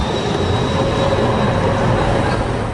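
Trams rolling through Potsdam give a loud, steady rumble of wheels and motors with a thin high whine over it, continuous and close, and no voices.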